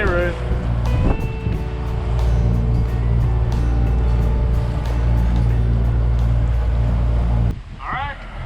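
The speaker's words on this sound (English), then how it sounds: "Let's turn the engine off." Sailboat engine running at sea, a steady low droning hum under wind and water noise that cuts off abruptly near the end, with a person speaking at the start and after it stops.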